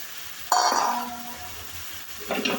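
Chopped onions hit a hot pan and sizzle while being stirred for an erişte salad. There is a sudden loud hiss, then a steadier fry that fades a little, and a clink of a utensil near the end.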